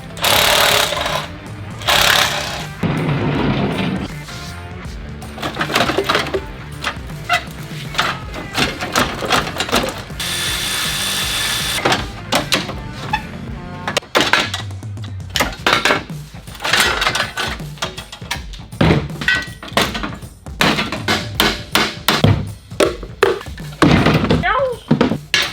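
Metal clanks, knocks and rattling tool strikes ring out in irregular bursts as the crash bar is pulled off a BMW Z3, with occasional talk mixed in between the loud clattering work noises.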